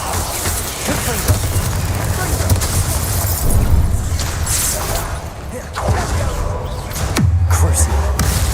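Confringo blasting spell explosions in the video game Hogwarts Legacy, several deep booms and crashing bursts at intervals amid busy combat noise, loud and close, with a voice speaking in between.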